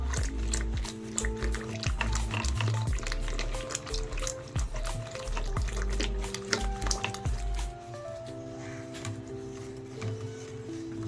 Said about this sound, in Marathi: आता मसूरची आपण आमटी बनवतोय, तर आपण ह्याच्यात 1 वाटी साधारण पाणी ऍड करायचे।